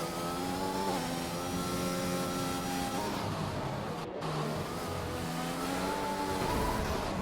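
Race car engine drones and shifts pitch through gear changes in a Russia circuit racing game lap, with a McLaren car, steady and loud, rising after a brief dip, with no talk.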